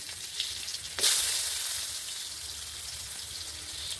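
Potatoes drop into hot oil already sizzling with dried red chillies, panch phoron and bay leaves. The gentle frying crackle bursts into a loud hiss as they go in, then settles back into a steady sizzle, with no one talking.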